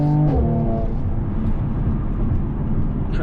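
Mercedes-AMG C43 with its performance exhaust engaged: a loud rev whose pitch climbs and drops in the first half-second, then a steady, close engine drone and low exhaust rumble.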